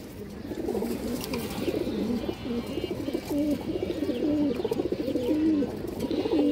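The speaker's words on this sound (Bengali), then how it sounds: "খুবই সুন্দর কবুতর মাশাআল্লাহ।" Several large fancy pigeons coo steadily and close by, their soft warbling rising and falling in overlapping phrases with no pause throughout.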